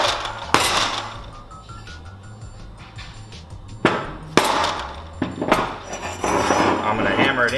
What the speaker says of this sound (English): So I use a dead blow for this so I don't mangle up this block.